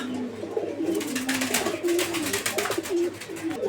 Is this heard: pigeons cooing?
yes